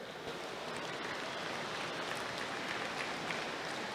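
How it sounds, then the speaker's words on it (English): Crowd applause at a dairy heifer show at the Carroll County Fair, a soft, steady patter of many hands clapping, distant and faint, continuing evenly without voices. "let's give everybody a big round of applause here on a beautiful heifer show at the Carroll County Fair"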